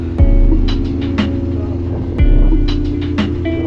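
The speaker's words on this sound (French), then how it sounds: "la moto roule parfaitement bien." A 1990s Honda CBR motorcycle rides on the Nürburgring track at sunrise, its engine a steady low drone with a sustained hum, rising into two louder swells, while wind rushes throughout.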